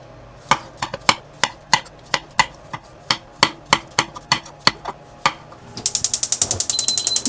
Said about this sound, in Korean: 우선 양파를 이렇게 얇게 썰어주시는 게 포인트입니다.